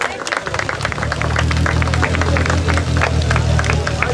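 Spectators applaud at the 6th Slalom di Gambarie car race in Reggio Calabria, scattered clapping rising over the low, steady hum of an idling engine nearby.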